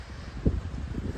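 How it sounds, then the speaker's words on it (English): Strong wind gusting outdoors in a hotel and shopping center parking lot in Studio City, California, a steady low rumble of buffeting against the microphone with a brief louder gust. "it's very windy"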